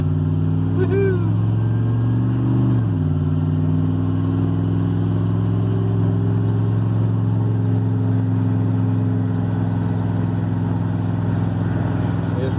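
A car driven at about 80 miles an hour on a busy Baldwin County road, its front end swaying, makes a loud, steady engine and road drone that holds throughout, with a brief shift in pitch early on.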